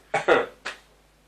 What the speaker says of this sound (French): C'est pour ça que tu tousses là?